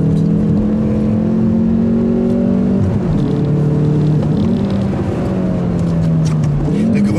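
A Hyundai i30 drives hard on a race track, its engine holding a steady loud drone with pitch shifts as gears and throttle change, continuous throughout.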